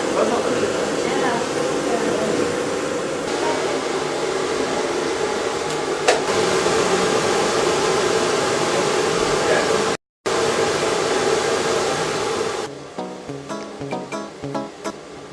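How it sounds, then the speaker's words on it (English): A loud, steady blowing roar of a very noisy industrial hairdryer grooming a dog fills most of the recording, briefly cutting out, with faint voices underneath. "Whilst Mum carries on with Cleo's grooming with the very noisy industrial hairdryer"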